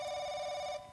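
A telephone in The Crooked Man video game rings with a single sustained electronic tone that cuts off abruptly near the end, clear and fairly close against a quiet room.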